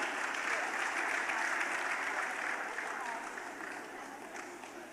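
An audience at a senior nursing and midwifery managers conference gives sustained applause, a broad steady crackle of many hands that holds strong and then gradually tapers and softens toward the end.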